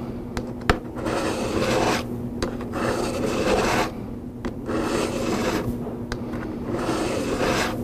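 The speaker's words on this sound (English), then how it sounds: "Place the broadhead down firmly on the DiaStrike and stroke into the cutting edge." Steady rasping strokes of a steel broadhead drawn across a DMT DiaStrike diamond sharpener, repeated back-and-forth scraping in close succession with brief pauses between sets of strokes.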